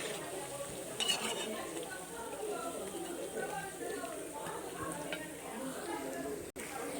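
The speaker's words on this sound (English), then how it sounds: "In medium flame you have to keep, and then you have to fry up" Masala vadas frying in oil over a medium flame, a steady crackling sizzle with occasional utensil clinks and stirring, while a person talks throughout.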